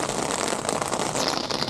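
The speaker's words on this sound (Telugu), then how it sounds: "మళ్ళీ వర్షం పడిపోతుంది." Rain falling steadily at a campsite in Kanyakumari during heavy rain, a dense, even hiss of drops on surfaces filling the short stretch without a break, close and fairly loud.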